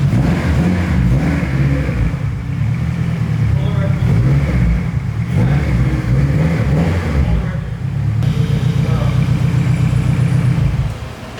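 Turbocharged K24-powered Integra engine revving on a dyno, a loud sustained mid-range drone with rising and falling rev pulses throughout, people talking over it.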